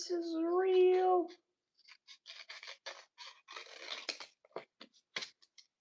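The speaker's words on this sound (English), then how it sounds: "That's how we use scissors." A voice makes a short drawn-out sound, then scissors snip in a quick run of crisp, close cuts with brief pauses between them.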